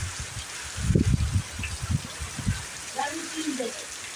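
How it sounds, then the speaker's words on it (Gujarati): Heavy rain falls steadily outside a village home, a continuous watery wash heard beneath a person talking close by. "એટલો બધો વરસાદ આવી ગયેલો છે"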